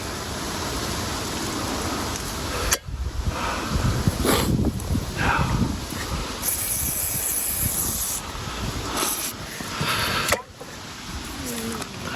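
Steady broadband hiss of water spraying for irrigation of silver dollar gum trees, continuous and fairly loud, with brief gaps and a few sharp knocks along the way.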